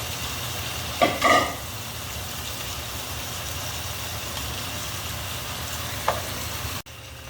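Steady close sizzle of garlic frying in a pan for Thai-style chicken wings, a continuous even crackle with a couple of brief clatters of utensils and no talking.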